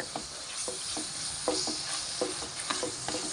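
A spoon stirs a spoonful of turmeric into onions frying in a pan for green peas curry. Repeated scraping strokes sound over a soft, steady sizzle, close and fairly quiet.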